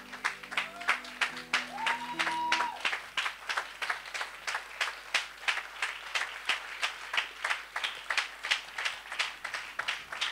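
A church congregation claps in a steady, rhythmic beat that carries on throughout, acclaiming the Lord. A brief sustained tone sounds at the start.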